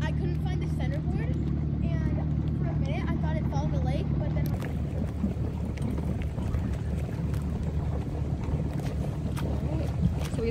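A Mini Sunfish sailboat out on the water in a light breeze, with steady wind rush and water noise throughout and voices talking over it early on.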